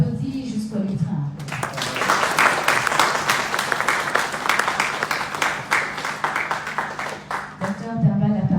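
Brief talk gives way to sustained audience applause at a community workshop as a doctor walks up to the lectern, dense even clapping lasting several seconds before tapering off, with a voice returning at the end.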